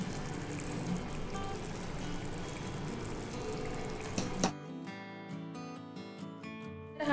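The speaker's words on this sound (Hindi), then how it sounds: "तो इसे अब अच्छा सा उबाल आने लग गया है, देखिए।" Water bubbling in a pan while cooking kadai paneer, a steady dense rolling hiss and gurgle that cuts off sharply, followed by quieter clinks and scattered light taps.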